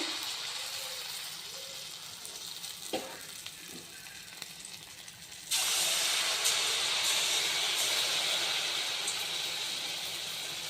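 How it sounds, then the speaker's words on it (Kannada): Oil heating in a pan for shallow frying snacks gives a steady low hiss that swells into a louder, bright sizzle partway through and holds there, with a few soft knocks early on. "ನಾನು ಇವಾಗ ಶಾಲು ಫ್ರೈ ಮಾಡಿ ಎಣ್ಣೆ ಕಾಯ್ದಿನಿ"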